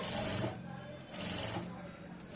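Sewing machine stitching a side joint on a garment, a close mechanical whirr that runs in short bursts with brief pauses between them while someone talks over it.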